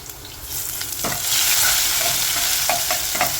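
Ginger, green chili and garlic fry in hot tempering oil with cumin for a potato and brinjal curry, giving a steady loud sizzle with a few sharp spits and crackles, and no voices.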